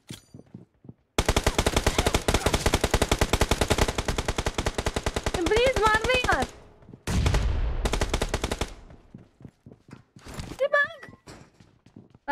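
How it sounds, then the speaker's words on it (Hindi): Automatic gunfire from a weapon in the PUBG Lite video game, with long rapid bursts of loud shots broken by brief gaps and quieter game sounds, while people talk over it. "ये टैप टैप गन है भाई।"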